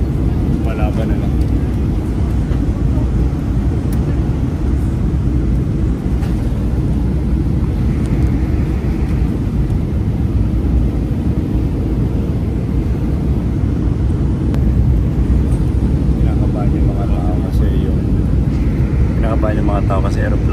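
A dense, steady roar fills an airplane cabin during turbulence on a flight from Florence to Paris, loud and unbroken throughout, with faint voices in the background.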